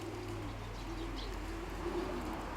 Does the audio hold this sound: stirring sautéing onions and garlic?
no